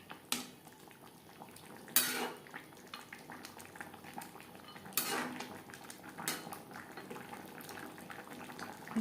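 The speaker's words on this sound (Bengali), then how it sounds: "গ্রেভির সাথে বড়ি বেশ ভালো করে মিক্সড করে দেব।" Fried lentil dumplings (biuli dal bori) being stirred into a vegetarian gravy in a pot, with scattered clinks and scrapes of a spoon against metal and soft bubbling beneath, fairly quiet, no voices.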